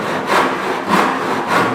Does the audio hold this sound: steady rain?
no